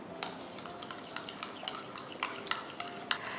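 Salt, black pepper and lemon juice being mixed into a salad dressing, a series of quick light clinks and scrapes of a utensil against a bowl, fairly close and moderately soft.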